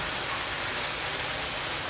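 Chicken fried rice sizzles steadily while being sautéed in a pan, a loud, close, continuous hiss with no pauses and no talk.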